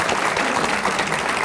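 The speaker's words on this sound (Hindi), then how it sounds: "तालियों से स्वागत हो हमारे खास मेहमानों का" A studio audience bursts into dense, even applause to welcome guests on a chat show, with many hands clapping steadily throughout.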